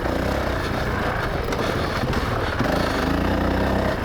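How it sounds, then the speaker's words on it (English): 2019 Honda CRF450X dirt bike ridden on a trail, its engine droning loud and continuous with slight shifts in pitch as it moves. "and do this just fine."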